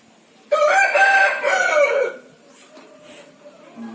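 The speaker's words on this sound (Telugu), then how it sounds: "మా కోడి కూడా చెప్తుంది వీడియో లైక్ చేయమని" A rooster crows once, loud and close, in a single call lasting about a second and a half. Quieter clucks and faint background noise follow.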